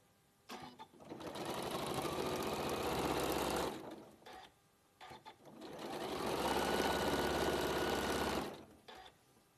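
A domestic sewing machine stitches quilt pieces in two sustained runs of steady, fast whirring, each a few seconds long, separated by a brief pause with small clicks and handling sounds; the motor noise is close and fairly loud.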